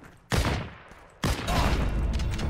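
Gunfire in the online shooter game Heroes and Generals: two loud, close bursts of rapid shots, the second running on as a sustained volley, with no talk.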